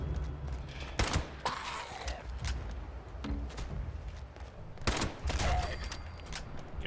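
Scattered gunshots in Fallout 76, a few sharp separate cracks spread over several seconds amid game noise, with someone talking now and then.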